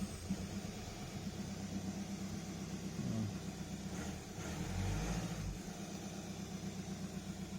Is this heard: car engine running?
yes